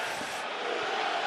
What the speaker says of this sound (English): I think I'm hearing USA chants from the New York crowd here tonight.